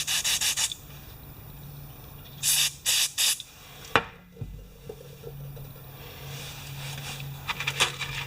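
Spray can squirting cleaner into a 6.5 hp Craftsman small engine: short hissing bursts near the start, several more in the middle and a cluster at the end, with a sharp knock and faint handling noises between them.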